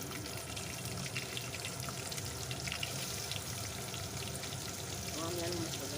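Potatoes fry in a pan along with green chillies for sambar, a steady, fairly quiet crackling sizzle running the whole time with no clear breaks.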